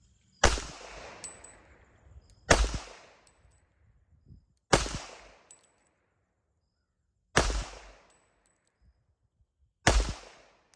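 Five sharp pistol shots are fired from the draw in a timed shooting drill, each one a loud, close crack with a decaying echo, spaced roughly two seconds apart with near-silence between.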